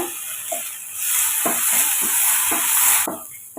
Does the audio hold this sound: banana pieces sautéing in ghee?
yes